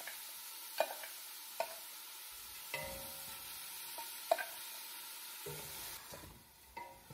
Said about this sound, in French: j'aime ce petit moment où les oignons viennent frire, viennent suer avec la viande